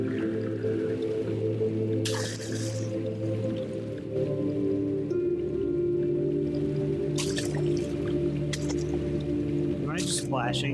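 Water splashing at a fountain in Amnesia: The Dark Descent, a few short wet bursts around 2, 7, 8.5 and 10 seconds over a steady, low, droning game ambience.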